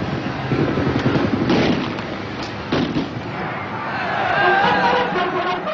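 Rifle shots crack sporadically through a crowded Paris street during the 1944 liberation as Leclerc's French soldiers fire, heard in grainy archival sound with scattered reports over a dense background din.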